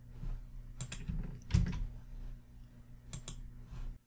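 A question being typed on a computer keyboard: scattered bursts of light key clicks at close range, irregular and quick, with a few heavier taps and no talking.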